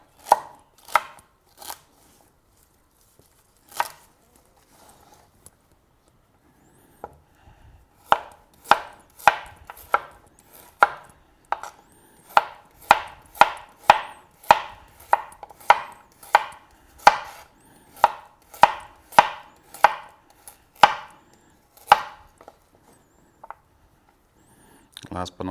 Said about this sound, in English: So we'll just roughly chop up our vegetables.